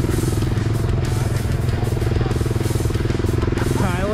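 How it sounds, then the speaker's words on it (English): A Honda 450 dual sport motorcycle idles on choke in the cold, a loud, close, steady single-cylinder putter with a faint rattle running throughout. "Got the choke on, gonna wait for her to warm up."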